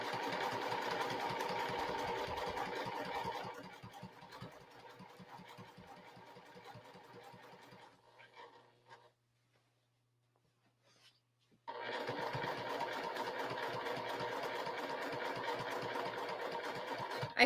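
Sewing machine stitching through a giraffe-print quilt, a steady rapid mechanical run that pauses into near silence before starting up again at full pace, loud and close.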